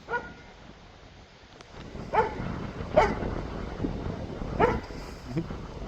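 A pup barks on guard at a large bird coming too close on a farm, giving three or four sharp, spaced barks at moderate distance against outdoor background noise.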